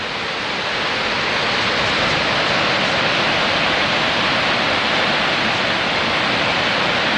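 Victoria Falls thunders as a dense, unbroken roar of falling water, loud and steady throughout with no other sounds standing out.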